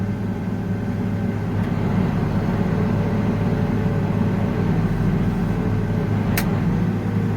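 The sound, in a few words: tractor engine straining while unfolding an implement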